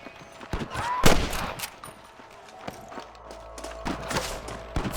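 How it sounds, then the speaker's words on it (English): Rapid bursts of gunfire in Red Dead Redemption, with a loud volley near the start and scattered shots and thuds following in an echoing firefight. "I can hear more gunshots."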